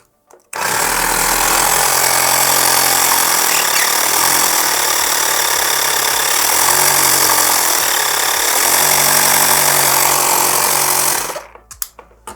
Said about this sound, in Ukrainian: Зараз давайте його підключимо, наживлення і послухаємо, як він буде працювати.